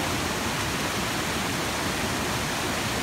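Sirki Waterfall in the mountains of Arunachal Pradesh sends up a loud, unbroken roar of rushing water, a dense steady wash heard close and alone, with no voices over it.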